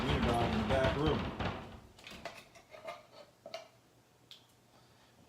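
A person talks briefly, then a dachshund bangs against a door in a run of irregular knocks and thumps, some louder than others.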